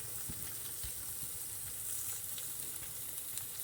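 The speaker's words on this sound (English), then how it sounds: "while the tempeh is cooking, okay, and it don't take long for this to cook" Tempeh sizzling and frying steadily in a hot pan, a continuous close hiss with small pops and crackles throughout, no voices.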